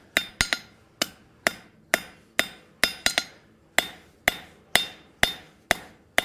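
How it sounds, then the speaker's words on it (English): Steel bar is hammer forged into a hinge: sharp, ringing metallic blows land about twice a second, some in quick doubles, each decaying briefly, loud and close with no voices. "Keep forging this out until I get it where I like it."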